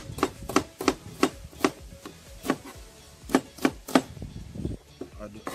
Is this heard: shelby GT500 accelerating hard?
no